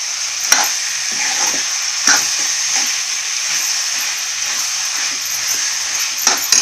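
Chicken liver masala fries over high heat in a pan, a loud constant sizzle and hiss with occasional sharp knocks and scrapes of a spatula stirring, close and without talk.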